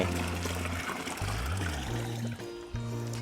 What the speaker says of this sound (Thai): แล้วแต่ชอบครับ อยากใช้แบบไหนอ่ะเราเติมน้ำ10 ลิตรเข้าไป